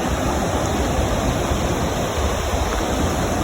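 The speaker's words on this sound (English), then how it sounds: "Definitely a rushing river down there." A rushing river below a hiking trail near Aspen, Colorado roars as a steady, dense wash of water noise, loud and continuous with no talking.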